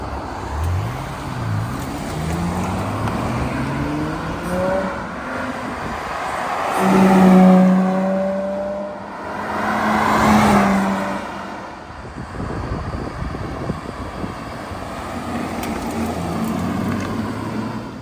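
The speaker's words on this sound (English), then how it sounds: "you're going to see the hum of the 6-liter V12 from the outside" A 2003 Aston Martin DB7 Vantage Zagato with its 6-liter V12 passes by on a back road, its rising engine note swelling loud and then fading before a second pass.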